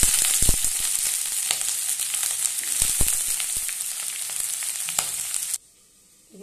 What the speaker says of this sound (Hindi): देखिए दोस्तों, मैं आलू दे रहा हूँ,